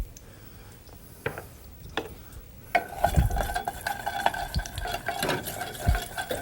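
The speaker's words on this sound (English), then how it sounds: "let's fry up our mustard seeds" Mustard seeds frying in ghee, starting quiet with a few scattered clicks and scrapes, then turning into a louder, busier sizzle with crackling and light stirring noises, close by with no talking.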